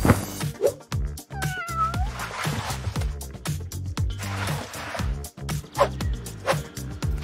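A cat meows repeatedly, close and insistent, a string of drawn-out cries over scattered clicks and rustling.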